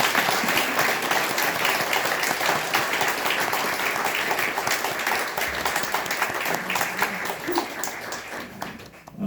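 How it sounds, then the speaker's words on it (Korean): A church congregation breaks into sustained applause, many hands clapping together in a reverberant hall, steady and full for several seconds before tapering off. "이왕 박수 쳤으니까 박수 한번 더 치겠습니다"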